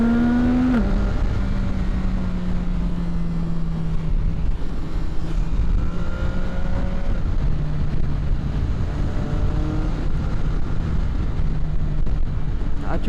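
A CFMOTO 675-SRR motorcycle accelerates on the move, its engine note climbing through gears in steady rising sweeps, loud and close under constant wind rush.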